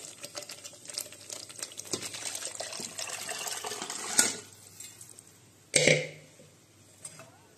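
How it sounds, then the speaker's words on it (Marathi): Water goes into a cooking pot of simmering masala and oil in a home kitchen, a steady pour with soft stirring and clinks of utensils, followed by two sharper metallic knocks near the end. "थोडंसं तेल सुटायला लागलं की आणि पाणी आपण तर टाकूया."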